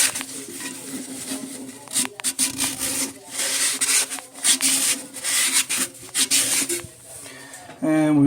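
Scraping and rubbing of lime buildup off the base of an American Standard Champion toilet flush valve, irregular gritty rasping strokes close up, with pauses between bursts.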